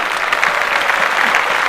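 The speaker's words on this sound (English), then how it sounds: "let me clap it up for the 19 sisters" A brief burst of steady applause, many hands clapping together at close range for under two seconds.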